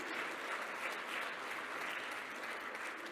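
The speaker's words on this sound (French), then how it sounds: "on vous remercie, on vous applaudit" An audience at a France Alzheimer research conference applauds a professor after a talk, a dense, even wash of clapping heard faintly and steadily from across the hall.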